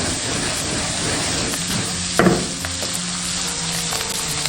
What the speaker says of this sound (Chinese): 下入腌菜，大火翻炒